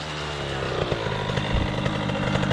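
A KTM SX-F 450 four-stroke motocross motorcycle engine runs loud and close, a steady buzzing roar with slight rev fluctuations and no talking.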